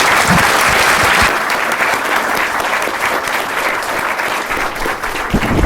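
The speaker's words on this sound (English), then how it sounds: "Let's give another round of applause, please, for Dr. Wu and Dr. Wong." Steady, sustained applause from an audience at a space medicine summit, many hands clapping at once without pause, loud and close.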